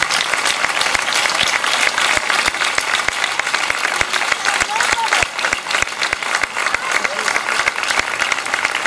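Loud, sustained applause from a large crowd at a town welcome ceremony in Medina Sidonia, with dense continuous clapping filling the whole stretch and no voices standing out.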